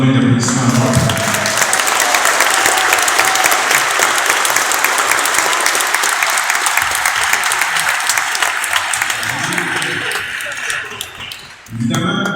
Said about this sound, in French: Je demande une bonne main d'applaudissement encore.